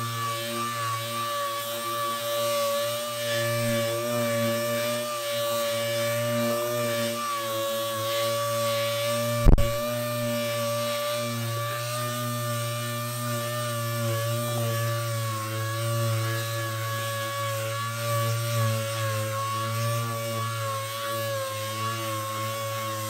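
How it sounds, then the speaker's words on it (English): A power sander works a Corian sink's curved radius with 400 grit sandpaper, giving a steady, close, continuous whir with a droning hum and one sharp click partway through. "now we're going to just sand this radius again with the 400 grit"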